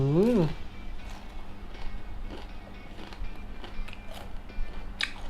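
Crisp crunching bites and chewing of fried chicken skin, close and fairly quiet, with a person talking over them.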